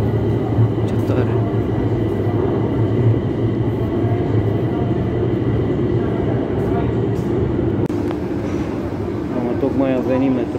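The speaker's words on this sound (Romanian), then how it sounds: "Am tocmai a venit metrou." A metro train arrives at Drumul Taberii station in Bucharest, its loud steady rumble and whine filling the platform, with a voice speaking over it and a brief squeal near the end.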